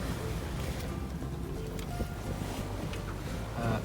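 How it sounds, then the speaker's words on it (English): A sailboat motor-sailing in light wind of about five knots on a North Sea passage: a steady, dense rush of wind and engine drone with water wash, continuous and fairly loud, no talking. "there's only 5 knots of wind. So it's not doing anything at all for sailing. So we're just we're motor sailing along"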